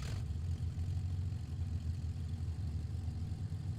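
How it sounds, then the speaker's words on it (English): In Microsoft Flight Simulator X, a simulated aircraft engine idles on a practice flight for the 1934 MacRobertson Air Race, a steady low rumbling drone holding evenly throughout. "I love the sound of the engine."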